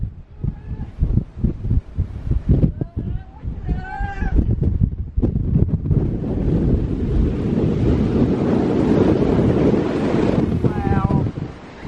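Strong gusting wind roars across a microphone high on Mount Washington, a broad steady rush that builds and holds after voices talk over the opening seconds.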